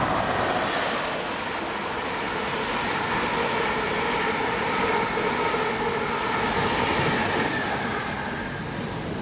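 Greater Anglia Class 90 electric locomotive hauling a train through Stratford station toward London Liverpool Street, a loud, steady rumble and roar of passing wagons filling the whole stretch without pause.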